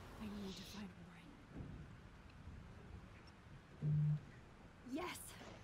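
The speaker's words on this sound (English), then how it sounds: "This storm is real." A thunderstorm in the video game Life Is Strange: steady rain hisses throughout while low rumbles of thunder roll underneath, with a brief tone and a few faint game sounds.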